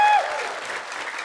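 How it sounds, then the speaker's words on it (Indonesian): A studio audience claps for the winners of a television quiz, a dense burst of applause that starts loud and stays steady for a moment, with a brief tonal sound at the very start. "Tepuk tangannya dong."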